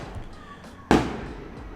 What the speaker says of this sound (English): it's a lot of fireworks.